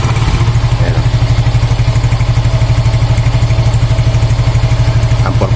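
A motorcycle engine idles to circulate its oil, running loud and close with a steady, rapid low thumping pulse and some mechanical clatter, holding an even rhythm throughout.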